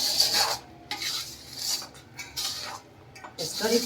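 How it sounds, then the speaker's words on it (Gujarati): A utensil scrapes and clinks against a pan as mawa (milk solids) is stirred into sugar syrup for penda. The strokes come in uneven bursts, close and moderately loud, with short quiet gaps between them. "હવે આપણે આ માવો નાખી દીધો કાજલ હા માવો ને ચાહણી હવે મિક્સ કરી દેવાની"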